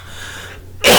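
After a quiet, hushed moment, a single loud, harsh cough bursts out close by from a preacher in the middle of a sermon.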